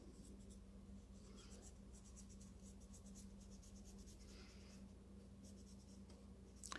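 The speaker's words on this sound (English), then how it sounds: "And I'm going to draw a line." A pencil or pen scratches along a ruler on paper, giving a faint, continuous close-up scraping stroke under a low steady hum.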